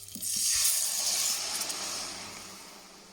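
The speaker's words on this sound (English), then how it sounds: "So just get the oils out, get it nice and bubbling, and in go your tomatoes." Chopped tomatoes go into a pan of bubbling chorizo oil and set off a loud hissing sizzle that surges and then settles into a steady frying crackle.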